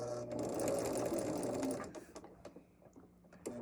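A sewing machine stitching fabric for a table runner flower runs in a close, whirring burst, then stops, leaving a few light clicks and handling sounds.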